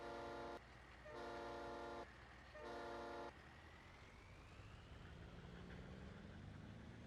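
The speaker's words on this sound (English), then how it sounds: "I'm gonna rip that train horn out of that truck." Truck horn in Farming Simulator 22 blares three times in a broken rhythm, loud and harmonic, long then short then long bursts, before trailing into engine rumble and game ambience.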